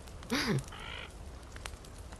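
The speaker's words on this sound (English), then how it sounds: "Is a bird eating your meat?" Seagull in the survival video game The Forest squawking as it pecks at meat, one loud wavering call followed by a shorter harsher cry, close and clear over faint background noise.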